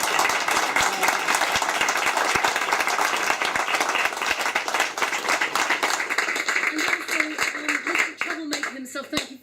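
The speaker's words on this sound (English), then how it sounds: "can we give all of our guests, including obviously Andrew, a huge round of applause" An audience applauds at a book launch in a Waterstones bookshop in Brighton, with dense sustained clapping throughout that thins toward the end while voices murmur.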